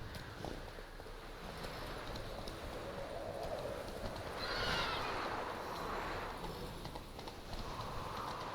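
Roach, a horse in The Witcher 3 video game, trotting with steady clip-clop hoofbeats through a noisy outdoor soundscape, with a faint whinny rising midway; the hooves sound fairly quiet.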